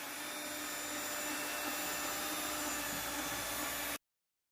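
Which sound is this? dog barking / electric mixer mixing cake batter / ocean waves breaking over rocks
electric mixer mixing cake batter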